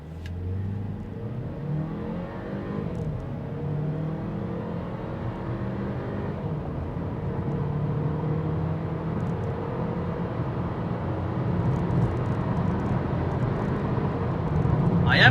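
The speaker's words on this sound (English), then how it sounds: "I'm going to stop talking and you just listen to the engine." A 2020 Audi Q2 in sport mode accelerates hard from a standstill, its engine droning steadily louder through rising gear pulls with tire and road roar underneath, heard from inside the cabin with no talking.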